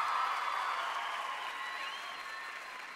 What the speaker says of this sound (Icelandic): gott klapp